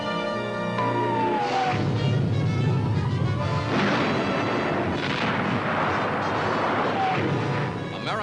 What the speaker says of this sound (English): there is a final burst of fire from the retreating enemy.